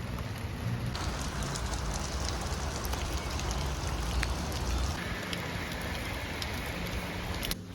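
Heavy rain pours steadily onto outdoor surfaces near a waterpark, a dense unbroken hiss with scattered drop patters that holds loud and even throughout and stops abruptly at the very end.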